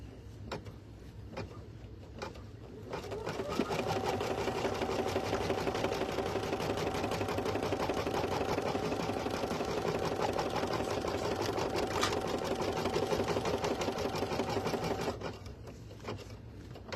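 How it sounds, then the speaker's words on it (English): An embroidery machine stitches placement stitches for an appliqué piece, a steady fast mechanical chatter running for about twelve seconds, with quieter clicks and handling before and after. "now we're running the placement stitches for our first applique piece"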